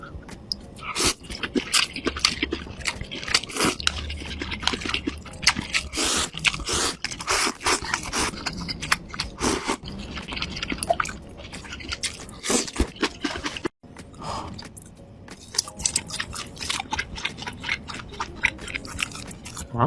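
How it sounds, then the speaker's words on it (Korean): Close-up eating of shrimp and noodles, with steady wet chewing, slurps and squishy bites continuing densely throughout, with no talking. "새우랑 면이랑도 같이 얹어서 먹을게요."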